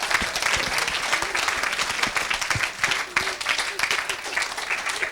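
A church congregation bursts into loud, sustained applause and cheering for the Lord, dense clapping filling the room with voices mixed in.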